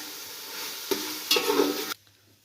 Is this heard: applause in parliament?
no